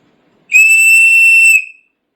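A single loud, shrill blast from a 3D-printed whistle, held steady for about a second before cutting off, alone and close.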